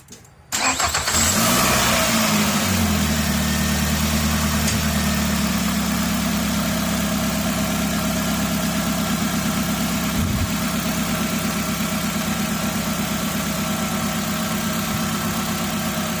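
A car engine starts and then settles into a steady, loud idle while warming up after piston-ring sludge removal, humming evenly for a long stretch with no talking.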